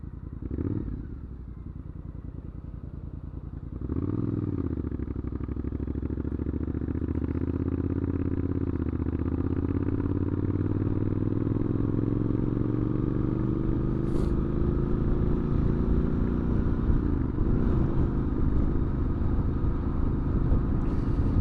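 An older Triumph Bonneville motorcycle on a short ride, its engine rumbling steadily and close, with the pitch rising through acceleration and a shift after a few seconds, then holding at a steady cruise.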